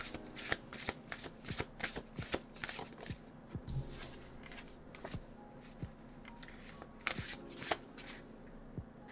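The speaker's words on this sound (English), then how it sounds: "I don't know if you can hear it from my mic, the shuffling sound for this one" A deck of cards being shuffled close by, quiet repeated riffles and snaps in an irregular rhythm over several seconds, with no talking.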